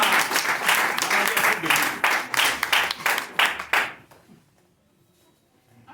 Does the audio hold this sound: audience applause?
yes